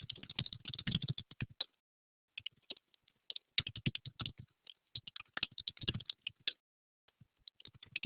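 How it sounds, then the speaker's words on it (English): Computer keyboard typing in irregular bursts of rapid key clicks separated by short pauses, fairly close and steady, with no talk over it. "While you guys are typing"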